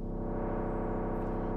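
A raw Eurorack synth voice runs through an A120 filter and holds a steady, buzzy, harmonically rich drone at even volume, with no other sounds.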